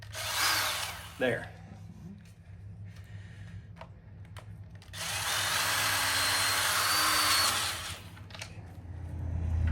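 A power drill whirs in two bursts while drilling a rivet hole in patio furniture, a short one near the start and a longer sustained run later, with a brief spoken word in between.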